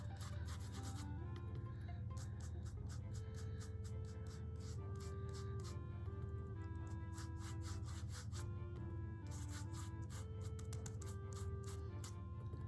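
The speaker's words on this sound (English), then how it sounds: "gently brush the white ink over it" A brush sweeps white ink lightly across a handmade card, giving a steady, close, papery rubbing texture that runs continuously with rhythmic scratchy strokes and no talk.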